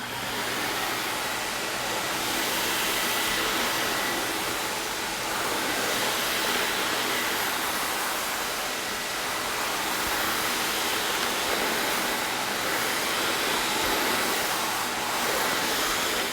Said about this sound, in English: Okay, we just finished vacuuming.